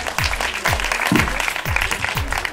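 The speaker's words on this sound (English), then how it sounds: "Big applause, please." An audience applauds at a screening event as a newly elected ladies' wing president is welcomed, continuous moderate clapping from a gathered crowd, with a repeating low thumping rhythm running beneath it.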